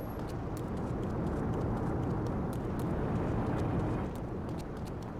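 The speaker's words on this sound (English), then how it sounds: "Dodo's making fart noises up there." The Dodo light airplane in GTA III rumbles continuously with a steady broadband engine noise, broken by rapid, irregular sputtering pops at a moderate level.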